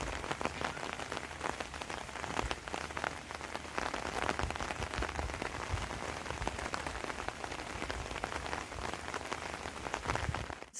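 Steady rain falls outdoors in a garden where cherries are being picked from a small bush, a dense, even hiss of drops on surfaces continuing unbroken throughout, close and fairly loud.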